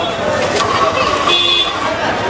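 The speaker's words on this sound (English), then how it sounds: "To most people, a crowded city street in India sounds like this." Crowded city street in India, a dense babble of voices and traffic with short horn and buzzer-like tones cutting through, busy and continuous at middle distance.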